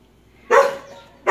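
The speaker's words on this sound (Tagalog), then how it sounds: "Yung mga aso ko, nakakakita ng kapwa aso kaya Colby!" Dogs bark at another dog, two sharp, loud, close barks breaking out of near silence, the first trailing briefly before the second snaps in at the end.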